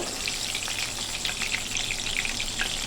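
Soybean chunks deep-frying in hot oil, cooked a small batch at a time, give a steady, close, bubbling sizzle with faint crackles throughout and no voices.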